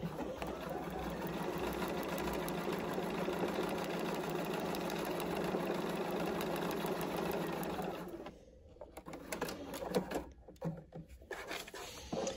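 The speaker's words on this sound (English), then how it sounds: "taking this over to the sewing machine, you will again sew down, just straight down that line" A sewing machine stitching a straight quilt seam down a template line runs steadily and close for about eight seconds, then stops, leaving a few faint handling clicks and rustles.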